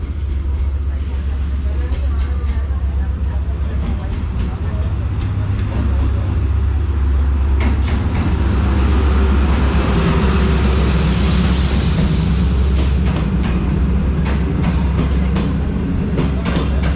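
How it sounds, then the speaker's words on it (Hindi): The 34 Down Pak Business Express between Lahore and Karachi, hauled by locomotive ZCU 36317, rolls into a station in winter with a steady heavy rumble, rhythmic wheel clatter and faint crowd voices around. "हमारे सामने से आ रही है ZCU 36317 के साथ लाहौर कराची के दरमियान चलने वाली 34 डाउन पाक बिज़नेस एक्सप्रेस"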